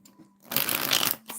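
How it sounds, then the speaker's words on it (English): Tarot cards are shuffled briskly close up, a short burst of riffling papery flutter lasting under a second, framed by quiet moments before and after. "When are you gonna be done shuffling here?"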